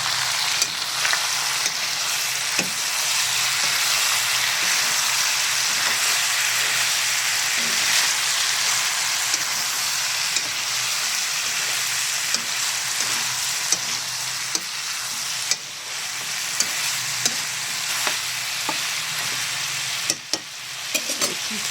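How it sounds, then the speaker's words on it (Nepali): Onions frying in a pan while being stirred, a loud, constant crackling sizzle that runs throughout, with occasional sharper clicks of the stirring utensil and no voices. "म हाल्दैछु यहाँ प्याज अनि म यसमा मजाले चलाइदिन्छु"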